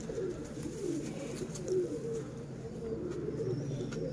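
Soft, low pigeon cooing repeats in the background, a gentle murmuring hum over faint ambient noise.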